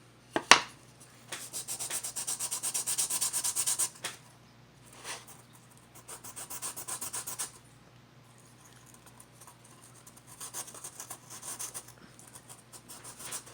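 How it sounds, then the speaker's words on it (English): Sandpaper rubbing back and forth on the wooden block of a Native American style flute, coming in close, soft scratchy bursts of a few seconds each, broken by short pauses. "So I fix that by sanding it down."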